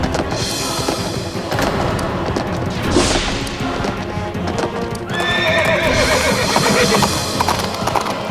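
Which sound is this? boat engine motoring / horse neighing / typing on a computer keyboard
horse neighing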